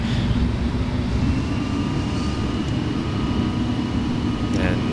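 Airliner engines in Flight Simulator X spool up to half throttle with flaps set to 5 for takeoff, a loud, steady droning roar with a low hum that holds throughout, no talking.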